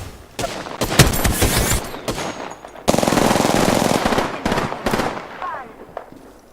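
Rapid automatic gunfire from an Apex Legends firefight, dense loud bursts of shots with a sustained barrage from the midpoint, fading into scattered shots, with game voice lines mixed in.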